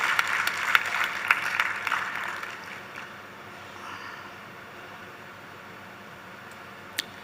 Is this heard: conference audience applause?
yes